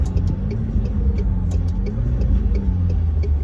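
A McLaren 720S supercar rumbles low and steady from inside the cabin, with faint clicking ticks scattered over the drone and slight swells in engine pitch during downshifts, no talk heard.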